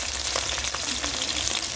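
Bata fish frying in oil in a pan, a continuous close hiss and crackle of sizzling with small popping bursts, steady throughout.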